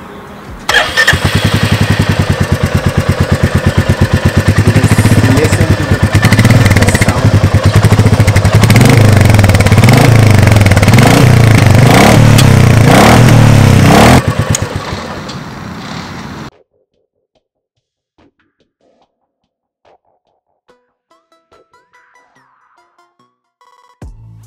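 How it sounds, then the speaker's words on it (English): A Royal Enfield Meteor 350 motorcycle engine runs loud and close, revving repeatedly in rising and falling surges for about fifteen seconds, then cuts off abruptly, leaving near silence. "This is the Meteor 350, which is definitely a big upgrade to the bike segment."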